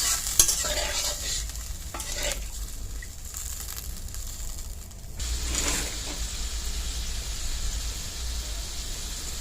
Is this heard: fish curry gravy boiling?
yes